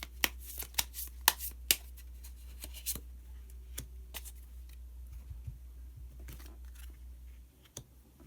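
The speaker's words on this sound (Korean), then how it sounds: "히든 카드를 한 장 더 뽑아보도록 하겠습니다." Tarot cards being shuffled and drawn at close range: a series of crisp riffling snaps and soft slides, sharp clusters early on and sparser flicks later, over a low steady hum with no talking.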